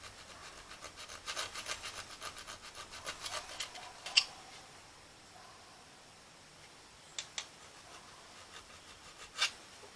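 A small hand saw rasps against a vacuum line hose, giving faint, close scratchy back-and-forth strokes with a few sharp clicks in the quiet pauses.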